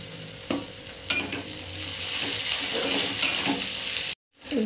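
Grated ginger and chopped garlic with paste sizzling in a hot pan, a close steady fry with a few sharp stirring scrapes, ending abruptly; no talking.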